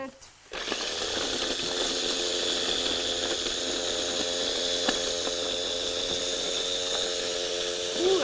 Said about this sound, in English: I'm going to grind fresh ginger